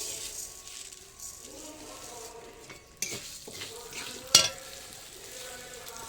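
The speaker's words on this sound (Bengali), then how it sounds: "এবার এইটা ঘি হয়ে গেছে, এবার ডালটা ঢেলে দিচ্ছি" Mung dal poured into hot ghee in a home kitchen, a soft sizzle with scraping stirring and a couple of sharp utensil clacks against the pot.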